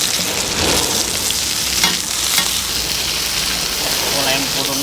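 Mussel omelet frying on a giant iron plate at a Thai street food stall, a loud continuous sizzle with scraping stirs and a few sharp clacks, a voice speaking briefly underneath.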